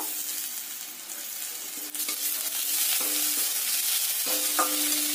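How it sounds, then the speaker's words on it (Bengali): Chopped tomatoes go into onions already frying, giving a steady loud sizzle with repeated clinks and scrapes of a spoon stirring the pan. "ওতে দিয়ে দেব কেটে রাখা টমেটো"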